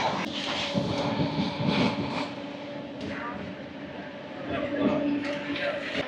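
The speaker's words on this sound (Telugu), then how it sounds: "బ్యాక్ సైడ్ ఒక ట్రైన్ అయితే వెళ్తుంది" A DEMU express train between Renigunta and Nandyal passes nearby, giving a steady broadband rumble with faint rail hum and some surges, under soft background voices.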